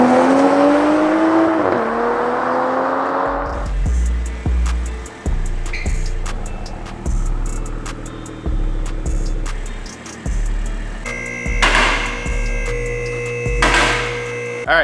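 A Toyota A90 Supra with its stock exhaust and inline-six engine drives by, with engine tones rising and falling through revs and gear changes over a steady hum.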